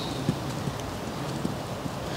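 A horse trots in an arena in a steady two-beat rhythm of soft, moderately close hoof thuds on footing, with no voices.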